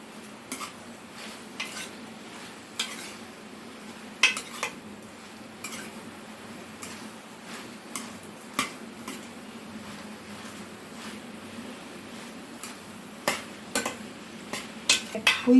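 Onions and okra stirred in a cooking pan for a bhindi pyaz dish, with repeated sharp clinks and scrapes of a utensil against the pan over a low steady sizzle, close by and without talk.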